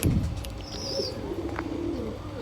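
Pigeons kept for sale, Kalanka birds in a loft, coo softly in a low, rolling murmur, with a brief higher chirp partway through and a steady background hum.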